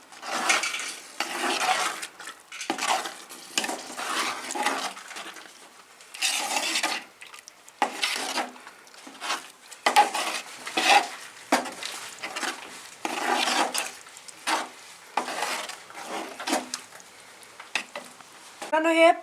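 Mahua chutney being mixed in a pot, a utensil scraping and knocking against the pot in repeated bursts of close stirring with short pauses between strokes.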